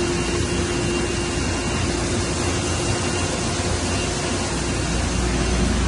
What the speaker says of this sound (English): Printing reasonably slowly for this job.